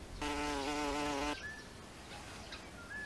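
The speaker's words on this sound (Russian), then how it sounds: "Это шмель, разновидность пчелы." A bumblebee buzzing in flight, a loud steady drone held for just over a second as it passes close, then fading into quieter outdoor background.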